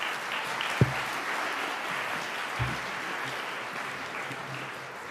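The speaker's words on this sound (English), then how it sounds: "let's give them one more big round of applause." Concert audience applauding the combined school orchestras at a spring concert, a steady wash of many hands clapping throughout, with a couple of low thumps near the start.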